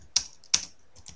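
Two sharp, distinct clicks from a computer keyboard and a fainter third, heard close and alone while an HTML list is typed.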